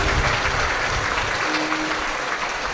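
An audience applauds in a hall during a Christian sermon, a loud, dense, continuous burst of clapping from many people that holds steady throughout.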